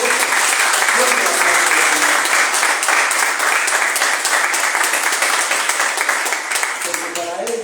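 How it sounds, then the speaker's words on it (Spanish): Church congregation giving loud, sustained applause during a Spanish-language service, dense clapping filling the room throughout with speech audible faintly underneath, a voice emerging near the end. "Dale un fuerte aplauso al Señor."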